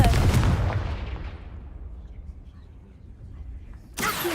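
A fiery spell blast from the video game Hogwarts Legacy booms loudly and decays over a few seconds like a rumbling explosion, with a second sharp burst rising at the end.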